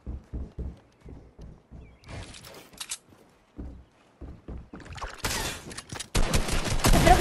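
Shotgun blasts in Fortnite, a series of sharp separate booms at an even pace, followed by a short rattle and then heavy, noisy bursts of fire near the end, with no talk over them.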